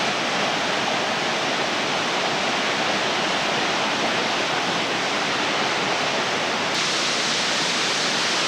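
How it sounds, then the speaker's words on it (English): La Mina Falls in El Yunque, Puerto Rico, pours as a loud, constant roar of rushing water, broad and unbroken from start to finish. "La Mina Falls."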